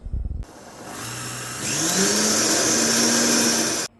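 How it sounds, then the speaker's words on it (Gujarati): A kitchen grinder whirs loudly and steadily, grinding a dry mix of rice and oat porridge, its motor pitch rising partway through before cutting off abruptly. "હવે આપણે આને દળશું."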